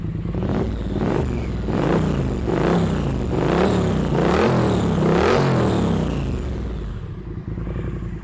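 Triumph Street Twin 900 motorcycle from 2018, its twin engine revved repeatedly, a loud close rumble rising and falling in about six even blips before settling to idle.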